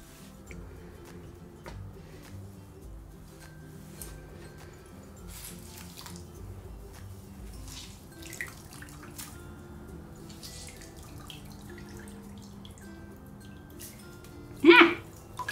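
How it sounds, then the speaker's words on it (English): Water drips and splashes from a wrung-out sponge into a tub of papermaking water, scattered quiet drops over a long stretch with one louder splash near the end. "I just dropped my sponge in the water. So, more wringing."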